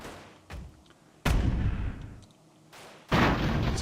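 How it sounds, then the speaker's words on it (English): Explosions rip through a steampunk airship during a battle in Airships: Conquer the Skies, coming as several loud, sharp booming bursts with rumbling tails and quieter crackle between them. "It's exploding at the back."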